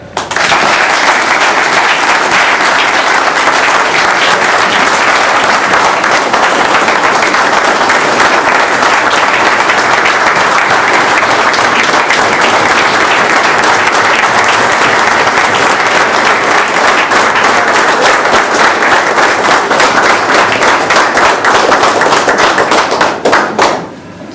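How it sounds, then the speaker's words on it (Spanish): Loud, sustained applause from a reunion class gathering honoring a professor, dense clapping holding steady for over twenty seconds before stopping abruptly. "le pido a todos ustedes que le demos un aplauso"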